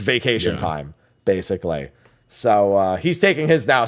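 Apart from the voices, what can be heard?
None of the usual background noises is heard.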